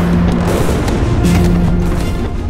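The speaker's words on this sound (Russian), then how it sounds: "По дамбе по-прежнему стреляют из мушкетов и пушек австрийцы с другого берега Альпоне." Cannon and musket fire from the Austrian side across the Alpone during the Battle of Arcole merge into a loud, dense, continuous roar of booms with no gaps.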